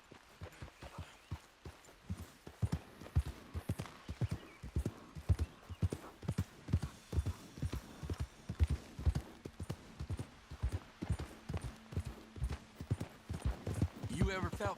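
Horse hooves clip-clop in a steady, even walking rhythm throughout in Red Dead Redemption 2, fairly close, with a brief whinny near the end.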